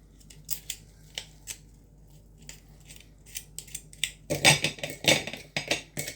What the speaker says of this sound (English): Scraping more meat out the inside of the body.